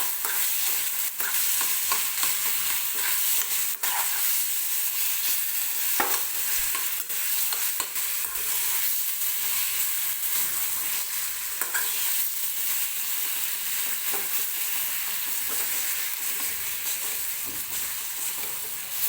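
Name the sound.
stirring mashed eggplant into hot oil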